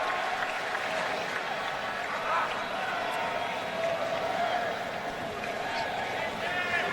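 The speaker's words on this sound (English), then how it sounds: "Serbian cheering section, or was that the Swiss?" Spectators in the stands at the 2010 US Open men's semifinal between Djokovic and Federer cheer and applaud steadily, a broad sustained roar of crowd noise with clapping throughout.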